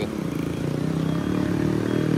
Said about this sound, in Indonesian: ada mesin yang mau nanjak di sini nih.